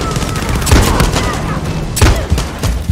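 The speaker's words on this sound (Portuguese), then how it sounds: "Tiros voando sobre a piscina." Gunfire in the Far Cry 6 video game, a loud, close, continuous fusillade of rapid shots with heavier bursts, played without talk.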